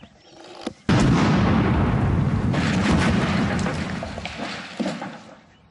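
A pole rigged with wire, electricity and a plunger detonates in a garden next to a shed, a sudden loud blast that bursts in at once and rumbles on for several seconds, slowly fading, with a second smaller thump near the end.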